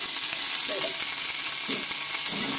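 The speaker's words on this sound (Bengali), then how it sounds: "এগুলোও আমি একসঙ্গে সব ভেজে নেব।" Green chillies fry in hot oil with garlic and onion for a cauliflower paste, giving a steady close sizzle with occasional bursts of crackle and a few soft stirring scrapes.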